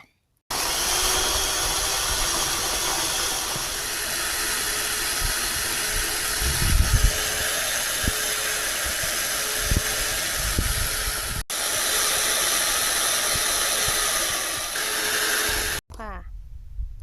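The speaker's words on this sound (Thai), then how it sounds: "ทีนี้เราก็จะปั่นนะคะเครื่อง" A countertop electric blender runs continuously, whirring loudly and steadily as it blends a garlicky, yogurt-like sauce. It cuts out briefly near the end, and a voice speaks faintly beneath the noise.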